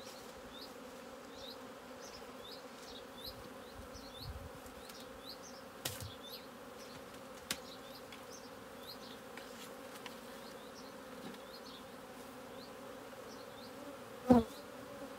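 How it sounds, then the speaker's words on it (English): Honey bees buzz faintly and continuously around an opened hive in an apiary, with a soft, steady drone and occasional closer passes. "all the bees are going to want to come back to here now"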